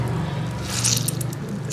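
Soaked ingredients for lachha pakora squeezed by hand to press the water out, a close, continuous wet squishing with dripping and squelching.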